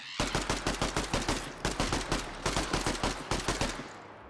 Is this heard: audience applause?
no